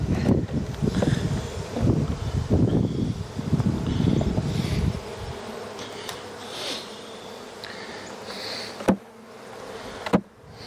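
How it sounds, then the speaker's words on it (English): Honey bees buzz loudly around hive frames during a year-end re-queening, a dense close drone for about five seconds that then drops to a fainter hum broken by a couple of sharp knocks. "Knock off most of the bees."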